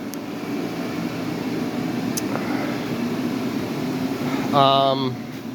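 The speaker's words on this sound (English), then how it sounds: "So there's 2 fans, a little fan, there's a little yellow one that creates the positive pressure inside the booth" Two fans, a small yellow one and a big orange one, blow air into an inflatable paint booth in a woodworking shop, giving a steady broadband whoosh with a low hum throughout and a brief tonal whine near the end.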